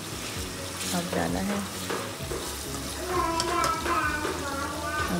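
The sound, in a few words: chicken frying in a pan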